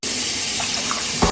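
Tap water pours steadily into a cup with a close, continuous hiss and splash, then ends with a brief clink near the finish.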